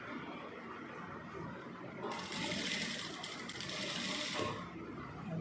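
A sewing machine stitches a straight line on cloth, a fast mechanical whirring clatter that starts midway and runs steadily for about two seconds over quiet room noise before stopping.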